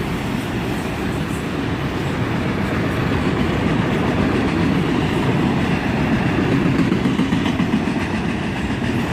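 CSX freight train hauling auto racks rolls steadily past at close range, a continuous loud rumble and wheel clatter that holds without a break.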